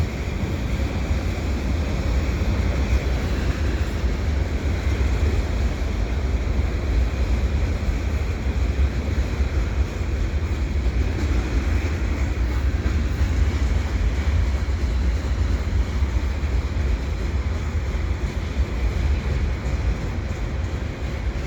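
Canadian Pacific eastbound mixed freight stack train, with TTX boxcars among the double-stack wells, passing at Dorval in winter as a loud, continuous rumble and rolling roar that holds steady throughout.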